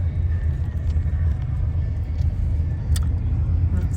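Inside a moving car, a steady low road rumble and engine drone fill the cabin without a break.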